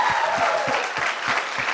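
Applause from an audience at a school assembly, dense continuous clapping with a few stronger beats, filling a short burst at steady loudness.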